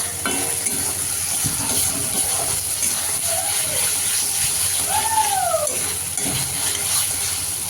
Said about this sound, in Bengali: ভালো করে কষিয়ে নিতে হবে মশলাটা